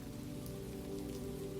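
Soft rain falling steadily, a gentle even patter on surfaces with a low continuous hiss beneath, faint and unbroken throughout, no voices or thunder.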